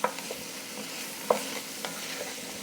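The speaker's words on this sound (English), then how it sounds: "I've got onions, you guys can see, and celery. And I'm gonna put that in the pan and start it to saute" Onions and celery sautéing in a pan that earlier held browned beef, a soft steady sizzle with a few sharp spoon knocks and scraping stir strokes.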